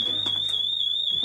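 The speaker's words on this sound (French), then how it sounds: "Je t'assure, j'ai entendu une alarme." A burglar alarm shrills with a continuous, loud, steady high-pitched tone, with faint indistinct movement sounds beneath it and no speech.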